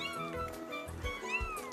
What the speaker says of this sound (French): Caillou n'avait jamais vu de chaton aussi petit.